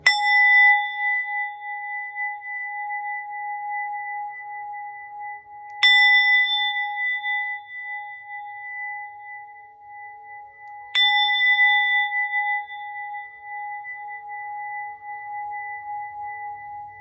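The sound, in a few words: struck bell or singing bowl ringing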